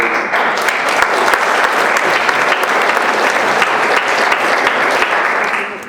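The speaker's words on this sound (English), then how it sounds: "I'd like to get everybody to give our volunteers a great amount of applause for their efforts." A packed hall applauds volunteers at a talk, loud sustained clapping from a large crowd, dense and continuous before tapering at the end.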